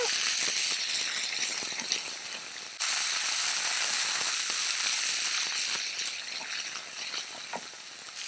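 Drumstick leaves sautéing in oil in a pan for a drumstick-leaf dal rice, giving a steady crackling sizzle with scattered pops throughout, close and fairly loud, with no talking.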